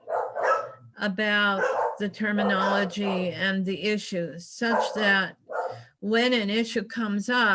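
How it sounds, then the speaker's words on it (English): Dogs bark in short bursts in the background while a person talks steadily over them, the barking mostly buried beneath the speech. "Sorry about my dogs."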